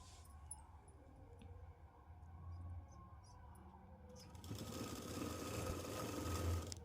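A sewing machine stitches a folded one-inch hem on a Punjabi dress, starting quiet and then running into a steady, louder whirring buzz near the end, with no voices.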